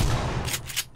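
A shotgun fired through a metal grate in PUBG, heavy close blasts with a booming low end, followed by a couple of quicker sharp reports fading out within a second.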